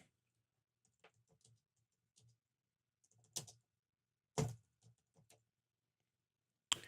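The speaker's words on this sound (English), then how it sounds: "And in English, I'm going to try and type something." Keys on a computer keyboard are tapped in short, sparse bursts, with a few louder clacks between quiet gaps, close and clear against near silence.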